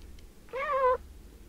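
A single short, clear cat meow from the video game Fragile Dreams rises and falls over quiet background hiss.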